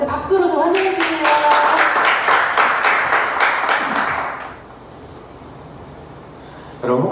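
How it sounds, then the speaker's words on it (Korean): Audience applause welcoming a speaker to the stage at a church youth program training lecture, a burst of many hands clapping together for about four seconds before fading into quiet room tone. "우리 김요셉 전사님 나오실 때 박수로 좀 환영해 주세요."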